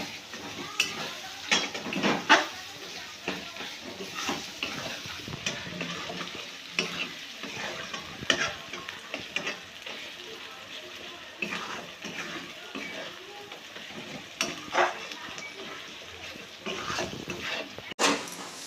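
Masala paste being stir-fried down in a pan for mutton curry, a continuous sizzle with frequent scraping strokes and clatter of the spatula through the whole stretch, no talking.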